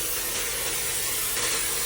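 Pork fries in a pan for adobo, rendering its own fat with a bright, constant sizzling hiss up close and no voices.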